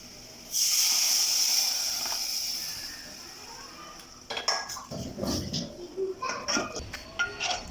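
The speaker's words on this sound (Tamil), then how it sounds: "இப்போ புளி கரைச்சி" Tamarind water poured into masala fried in oil in a pan for vatha kuzhambu gives a sharp, loud hiss that fades, followed by clinks and scrapes of a utensil against the pan.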